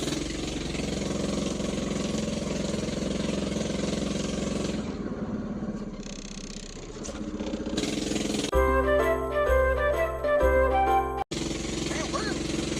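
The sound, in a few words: Predator 212 6.5 hp engine driving shortened Mazda B2200 truck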